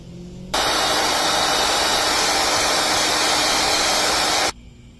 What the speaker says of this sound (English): So I'm going to dry it with the hair dryer,